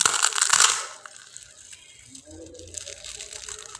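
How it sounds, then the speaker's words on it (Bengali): Crisp crunching and cracking of deep-fried filled pitha being broken in two, a loud burst at first, then quieter crackles and crumbles. "প্রথমে ভেজে রাখা পিঠাটা আমি 2টা আপনাদের ভেঙে দেখিয়ে দিচ্ছি"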